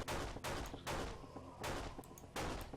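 Several bursts of rapid gunfire from Breach & Clear: Deadline, a tactical shooter game, come in three loud clusters with brief gaps between them.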